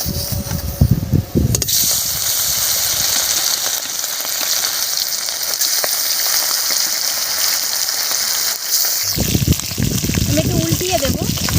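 Snakehead fish drops into hot mustard oil in a wok, erupting into a loud, steady crackling sizzle that carries on for several seconds, with voices and handling noises at the beginning and end.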